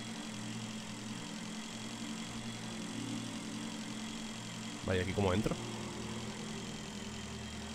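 Motorbike engine from the video game Breathedge, an even idling drone running the whole time, with someone briefly speaking over it midway.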